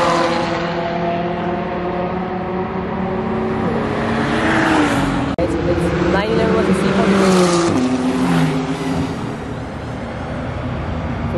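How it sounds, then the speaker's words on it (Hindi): A Lamborghini Huracan driving on a race track, its engine a loud continuous drone with shifting pitch as it accelerates, heard close with steady background noise throughout. "Huracan is now going at the track."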